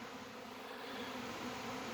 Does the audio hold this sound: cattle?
no